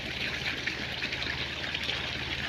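Water from a motor-driven pump, drawn from a well, pours steadily out of a pipe, giving a continuous close rushing splash with no break and no voices.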